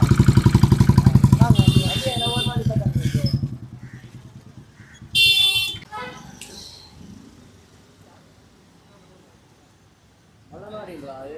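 A motorcycle passes close by on a street, its engine loud at first, then fading away over several seconds, with people talking nearby and another vehicle rising at the end.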